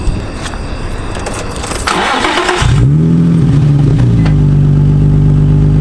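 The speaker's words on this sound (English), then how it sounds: "I think you have an exhaust leak now." A Nissan 350Z engine with an exhaust leak cranks and starts, then settles into a loud, steady idle with a raspy, puffing exhaust note close by.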